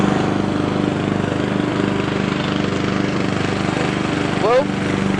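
A lawn mower runs steadily nearby in an outdoor horse-roping practice setting, a continuous engine drone that holds fairly loud throughout with a brief rise near the end.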